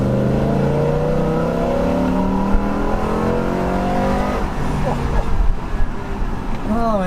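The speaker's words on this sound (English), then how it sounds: "we can kind of let this exhaust echo and just get this glorious sound" A 2006 BMW M5 with its V10 engine revving hard, the exhaust howling loudly and echoing off nearby walls, rising in pitch steadily before a burst of sharp throttle blips near the end.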